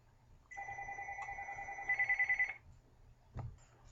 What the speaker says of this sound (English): we had a little phone call coming in